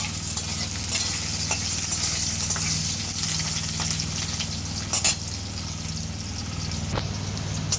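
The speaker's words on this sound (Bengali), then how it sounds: "এবার আমি আলুটা ভেজে নেব মাছের তেলে।" Potatoes fry in fish oil in a pan for tangra fish curry, a steady hiss and sizzle with occasional spatters and scraping stirs, close and continuous with no talk.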